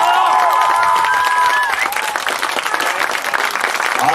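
Spectators applaud and cheer at an American football game between Wilki Łódzkie and Angels Toruń, a dense crowd roar with clapping that swells after a run play, while a commentator talks over it at first.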